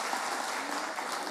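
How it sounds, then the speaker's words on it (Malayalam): Audience clapping at a couples day celebration in St Mary's church, Alangad, a dense steady patter of many hands filling the short moment without a break. "എല്ലാവരും ഒന്ന് കൈയടിച്ചേ."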